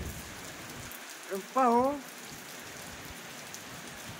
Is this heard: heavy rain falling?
yes